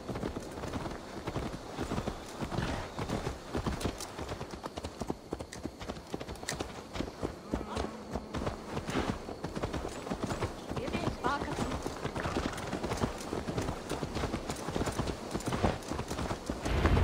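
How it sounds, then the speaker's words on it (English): A horse's hooves clip-clop at a steady walking rhythm in the Assassin's Creed Valhalla video game, quiet and continuous throughout with faint game voices in the background. "Let's return the horse."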